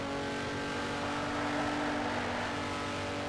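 A Ferrari race car in the racing game Ferrari: Racing Legends holds a steady, droning engine note at fairly constant revs, with no talking over it.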